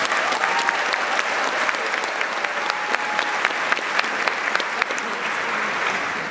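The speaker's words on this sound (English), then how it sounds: "give them a big round of applause" Audience applause at a film festival opening gala, dense steady clapping from a large crowd sustained throughout, with no voices over it.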